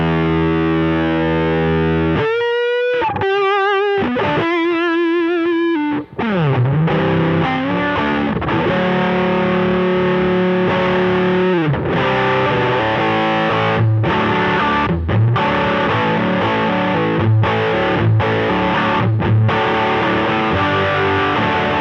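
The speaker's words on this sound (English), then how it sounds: "It's a really, really great sounding ram's head circuit." Electric guitar played through a Ram's Head fuzz pedal with the tone rolled back: thick, saturated distorted notes and sustained chords, loud and close, with quick choppy bursts early on and no talking.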